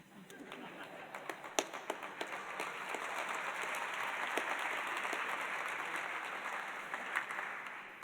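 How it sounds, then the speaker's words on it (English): An audience applauds at an award ceremony for a public leadership award, with sustained dense clapping throughout and a few sharper individual claps standing out near the start. "See how you draw applause, Amy?"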